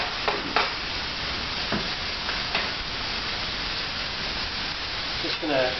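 Pork loin and thinly sliced sweet Vidalia onions sizzle in a pan, a steady close frying hiss with occasional stirring clicks and scrapes.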